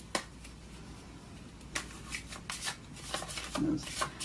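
Tarot cards are shuffled by hand in quick, crisp bursts of riffling and flicking, close and soft, with a few brief pauses between bursts.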